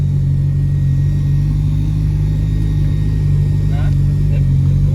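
Dodge car engine accelerating while driving, a steady low rumble from inside the cabin that rises slightly toward the end, with people talking over it.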